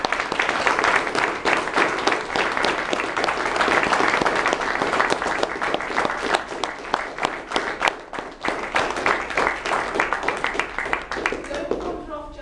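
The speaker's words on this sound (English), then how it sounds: "they all deserve a massive round of applause" A theatre audience at a Brixham matinee show applauds vigorously and continuously, thick sustained clapping filling the room with a few voices and cheers mixed in.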